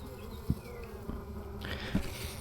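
Russian honey bees buzzing over a brood frame, a steady low drone with a couple of louder passes close by, no talking.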